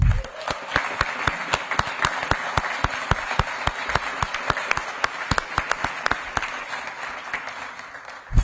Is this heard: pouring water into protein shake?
no